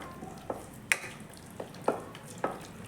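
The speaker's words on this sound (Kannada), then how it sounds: "ಲೋ ಫ್ಲೇಮಲ್ಲಿ ಇಟ್ಕೊಂಡು ಫ್ರೈ ಮಾಡ್ಕೋಬೇಕು" Cashews and raisins fry in ghee in a pan over a low flame, with soft sizzling under several sharp clicks and scrapes of stirring, fairly quiet and close.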